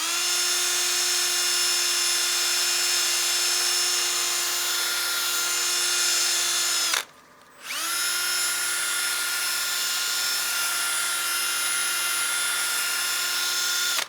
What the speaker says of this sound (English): Make sure you take the time and sand the rim very well